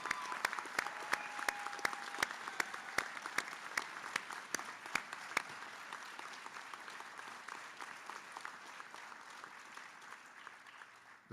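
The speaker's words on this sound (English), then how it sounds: "please give a big round of applause to our 2026 recruit class and our newest firefighters" Sustained applause from a seated ceremony audience welcoming the 2026 firefighter recruit class at a Torrance Fire Department promotional ceremony, dense and steady with sharp individual claps early, gradually thinning and fading toward the end.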